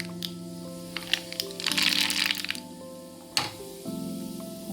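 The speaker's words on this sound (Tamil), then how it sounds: "இந்த இதில் கொஞ்சோண்டு கடுகு சேர்த்துக்கலாம்." Mustard seeds spluttering in hot oil while tempering for adai dosa: scattered crackles swell into a dense burst of popping, then a single sharp crack, over a steady background drone.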